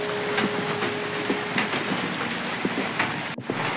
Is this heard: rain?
yes